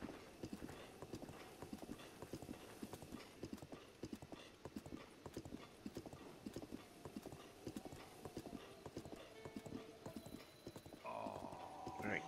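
Horse hooves clip-clopping in The Legend of Zelda: Breath of the Wild, a quick, regular gallop of hoof strikes at moderate volume, ending with a brief whinny and game sound near the close.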